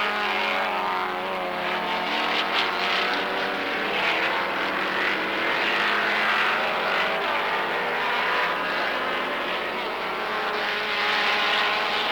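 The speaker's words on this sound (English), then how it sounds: "Marshall and Strawson going into the top corner" Racing cars, including a Vauxhall Ventora, lapping a circuit during a race, heard as a continuous droning engine roar at steady moderate volume, with no voices present.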